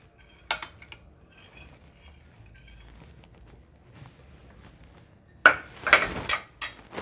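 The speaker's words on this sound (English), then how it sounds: "Mix that up." A utensil clinks against a bowl while dark rum is mixed into tiramisu mixture: one early clink, a quiet lull, then a burst of close, rapid scraping and tapping.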